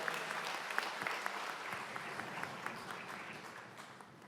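An audience applauds steadily after a traditional Korean singer's performance at a Seoul memorial ceremony for the May 18 Democratic Uprising, a dense wash of clapping that fades gently toward the end.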